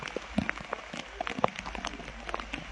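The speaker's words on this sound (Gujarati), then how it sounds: "વરસાદ જ જોરદાર છે" Heavy monsoon rain in Dwarka patters and splashes on nearby surfaces, with irregular close drops and spatters over a soft steady wash.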